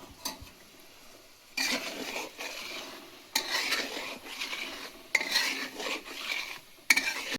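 A spoon stirring sugar syrup in a metal pot, scraping and clinking in several separate bursts with short quiet gaps between them, close and fairly loud.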